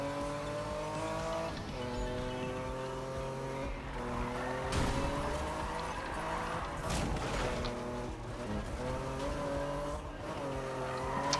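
A drifting car in Need for Speed 2015 holds a continuous engine drone with shifting revs while tires squeal through long slides, with brief impact bursts, steady and close throughout.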